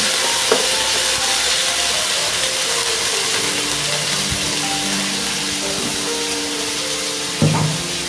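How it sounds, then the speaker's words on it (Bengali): Snake gourd frying in refined oil in a pan, a steady broad hiss running throughout with faint stirring knocks and a brief clatter near the end, no talk. "আমি সব রিফাইন তেল দিয়ে ভাজবো"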